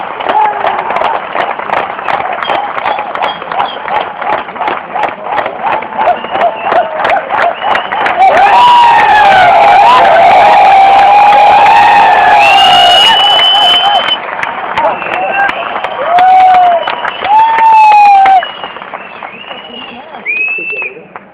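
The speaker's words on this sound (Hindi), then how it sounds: "जोरदार तालियां" A crowd at an RCM association gathering gives loud, sustained applause and cheering, with thick clapping at first, then swelling shouts and whoops, while a voice carries over the noise.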